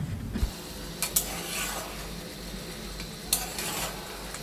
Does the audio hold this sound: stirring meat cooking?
yes